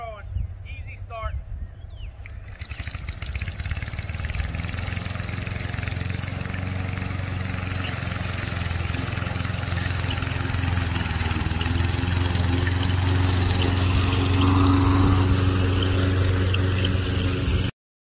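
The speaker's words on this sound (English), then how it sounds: "Let's see if it starts. The 22-inch Toro lawnmower." A 22-inch Toro lawnmower engine catches after a brief quiet start and then settles into a loud, steady, close idle with a constant low hum that runs to the end.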